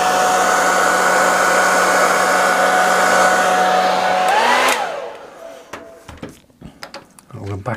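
A hair dryer on its low setting blows steadily to dry airbrushed acrylic paint and inks, a loud continuous close whoosh that cuts off partway, followed by small handling knocks and clicks.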